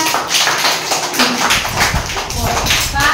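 Children in costume clap their hands together, an uneven patter of claps mixed with an adult speaking over them nearby.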